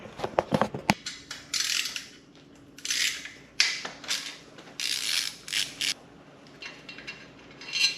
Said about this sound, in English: let's pull off that bracket, or at least the front two bolts, and the bolts for the skid plate